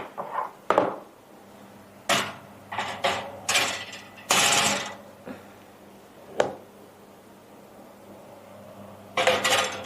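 Big pans and dishes clatter and scrape on a small stove in a cramped kitchen, several separate bursts of metallic knocks and rattles spread across the span with short quiet gaps between them.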